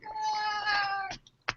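A pet cat gives one long, drawn-out meow close by, followed by a couple of brief faint sounds, with no talking.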